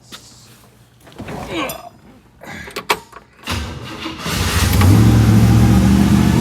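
A 1964 Chevrolet Malibu SS engine, its choke just adjusted, cranks and catches, then settles into a loud, close, steady running roar, preceded by some clunks and handling noise.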